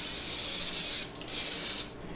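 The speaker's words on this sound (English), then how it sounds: "I'm going to first spray it with non-stick cooking spray to hopefully prevent it sticking entirely." Steady hissing spray of non-stick cooking spray coating a bone-shaped baking tray, up close and continuous with a brief pause midway, no talking.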